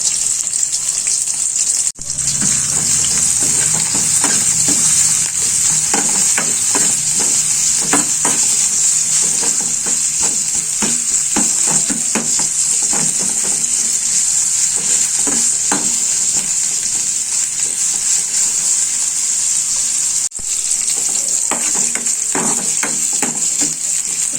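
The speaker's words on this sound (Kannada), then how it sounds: "ಇದು ಸ್ವಲ್ಪ ಕಂದು ಬಣ್ಣ ಬರೋವರೆಗೂ ನಾವು ಎಣ್ಣೆಯಲ್ಲಿ ಬಡಿಸ್ಕೋಬೇಕ್ರಿ" Potato pieces frying in oil in a pan until brown, a loud continuous sizzle with repeated scraping stirs throughout, close up and without talk.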